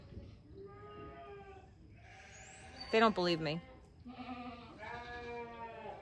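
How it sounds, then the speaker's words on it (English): Several sheep and goats bleat at a distance, long wavering calls overlapping, with a louder nearby bleat in the middle and a person speaking briefly. "The goats and the sheep, they're always out here yelling,"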